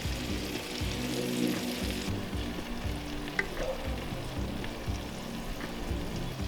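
Pork chops sizzle on a Weber griddle as a glaze with thyme and rosemary is added, a steady close sizzle with soft stirring and a brief pouring swell, no talking heard.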